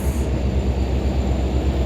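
The Sairang Express passenger train runs along the rails with a steady, loud, continuous rumble and roar, heard from on board with no talking.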